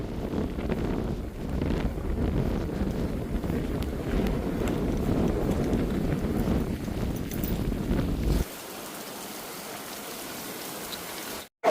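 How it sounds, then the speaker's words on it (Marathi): Strong wind roars and buffets against the microphone in a continuous loud rush, mixed with rain, then drops abruptly to a quieter hiss near the end. "बघा वारा उभं राहता येत नाही, इतकं जोरात वारा सुट नाही"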